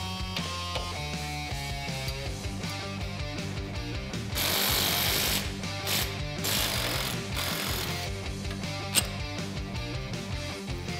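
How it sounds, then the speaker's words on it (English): Tools work at the ball joint bolt on an ATV lower A-arm, with rapid rattling impact or ratchet bursts, a louder stretch in the middle and a sharp metallic click near the end. "Now remove the ball joint bolt from the lower A-arm."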